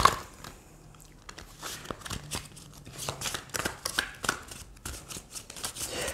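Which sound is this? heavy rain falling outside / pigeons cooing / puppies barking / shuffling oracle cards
shuffling oracle cards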